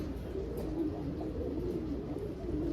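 Pigeons coo softly in a low, steady, throaty murmur that continues throughout.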